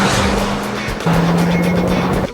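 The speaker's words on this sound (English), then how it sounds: "It's real easy to forget that you're driving a 2-liter inline 4-cylinder engine here." A Mitsubishi Lancer Evolution X with a 2-liter inline four-cylinder engine, driven at a racing drivers school, drones loud and steady at sustained revs, its pitch dipping once mid-way before holding again.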